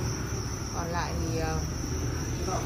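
Crickets on a cricket farm chirp in soft, rapid trills over a steady background hiss, with someone talking quietly underneath.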